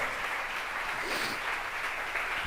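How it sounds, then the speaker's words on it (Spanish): A church congregation claps after a sermon, steady applause lasting a couple of seconds with no voices over it. "Amén, dale un aplauso."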